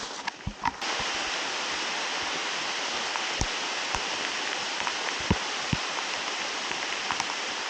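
Steady rain pattering onto a forest trail, a dense, even hiss of drops with occasional louder individual splats, close and continuous with no voices.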